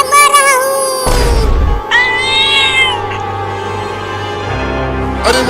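A cartoon kitten in a Hindi comedy animation meows in short, high, tonal cries, loud and close, with a low thump and other cartoon sound effects between them and no talk.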